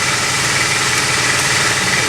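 A garage air compressor running with a loud, steady mechanical drone and hiss that stays constant and does not let up, close by.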